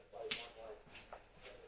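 A loud ringing bellbird call outdoors in Victoria, Australia, heard as a sharp whip-like note followed by a few fainter, shorter chirps spread across the moment.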